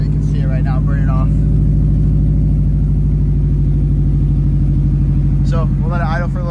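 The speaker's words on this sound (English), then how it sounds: "So we'll let it idle for a little bit" A Subaru STI engine idles steadily with a loud, low, throbbing burble while oil burns off, its tone unchanging throughout as someone talks over it at the start and end.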